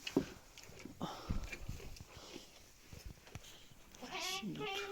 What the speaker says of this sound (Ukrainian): Оце вона помекує, побекує.